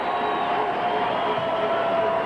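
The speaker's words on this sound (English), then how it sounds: "The roar of the crowd" A basketball arena crowd roars and cheers in a steady, dense wash of noise. It holds at a constant loud level throughout, with no single voice standing out.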